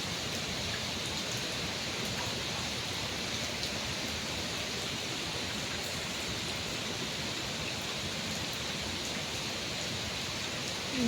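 Heavy rain pours down without a break, a dense and even hiss that fills the scene and stays loud from start to finish, with no voices.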